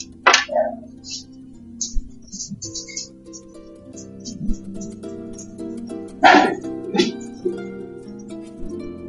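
Several household dogs bark and yip in short outbursts, loud and close, with a strong cluster of barks in the middle, over quieter background sounds.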